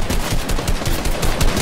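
Pump shotgun fire in Fortnite, heard as a steady run of sharp, punchy shots in quick succession, loud and close with no talking over them.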